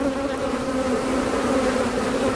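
Honey bees swarm densely around an open hive during a brood box inspection, making a steady, close, continuous buzz with no voices.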